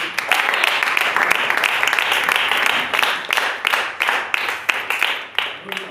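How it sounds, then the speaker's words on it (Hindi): A church congregation claps together in a rhythmic, sustained burst of hand clapping that fills the room. "आप ताली बजा सकते."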